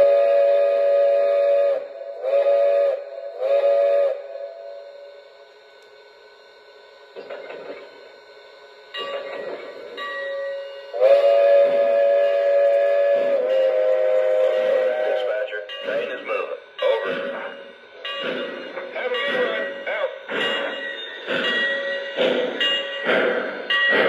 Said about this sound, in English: let's go ahead and pull this train out of the yard